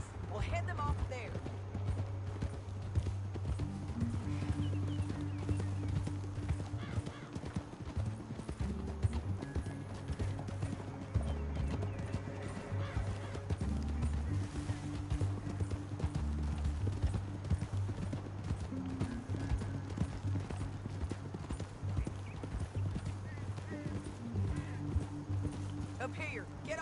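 Horses galloping across terrain in the video game Red Dead Redemption 2, steady rhythmic hoofbeats with an occasional whinny, running continuously beneath a low musical score and bursts of character dialogue.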